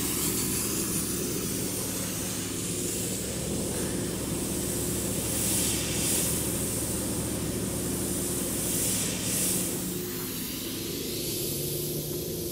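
Air from a tow-behind compressor blowing out of lawn sprinkler heads during a fall blowout: a loud, continuous rushing hiss and spray with a steady low engine rumble beneath, swelling slightly at moments, no talk.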